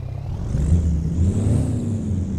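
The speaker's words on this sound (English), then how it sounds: "It's an old school truck sound." A MAN 520HN truck engine starting up in American Truck Simulator, a steady low diesel rumble with a slight rising whir, loud and continuous with no talking.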